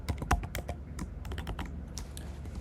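Rapid, close computer keyboard clicks type out Hello World code for a Java file, a busy, irregular run of keystrokes with heavier thumps from a few keys and no talk.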